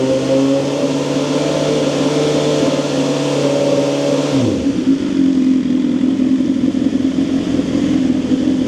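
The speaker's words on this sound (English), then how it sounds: "I'm gonna go ahead and rev right to 4 grand." A BMW S1000R motorcycle with a dB silencer fitted idles with a steady hum, then revs up to about 4000 rpm into a loud, rough roar that holds steady, recorded up close.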